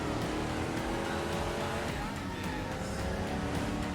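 A muscle car cruises along a winding coastal road in California, its engine a steady, loud low rumble with road and wind noise throughout and no clear gear changes.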